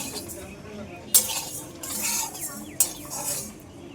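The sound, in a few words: mustard seeds spluttering in hot oil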